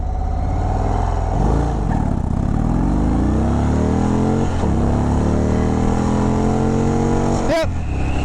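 A 2024 Indian Springfield Dark Horse motorcycle accelerates hard toward 60, its loud engine climbing in pitch through repeated gear changes, heard up close with the rider speaking over it.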